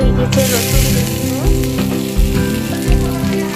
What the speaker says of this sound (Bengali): কালো জিরা ভাজা হয়ে গেছে, রসুন দিয়ে দিব।